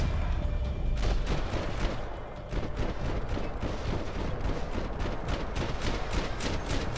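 Dense gunfire in the video game Max Payne 3 crackles continuously, with rapid overlapping shots and sharp reports throughout at a steady, loud level.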